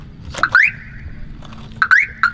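A truck's car alarm blares nearby during a Texas camping trip, loud repeating chirps and rising whoops in two bursts separated by a brief pause, with a low engine-like hum underneath and no talking.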